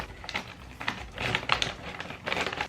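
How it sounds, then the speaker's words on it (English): Scissors snip through a crinkly chip packet, a series of short crisp cuts and rustles in irregular bursts, close and fairly quiet with no talking. "we're just gonna have to pull out a scissors and cut it open"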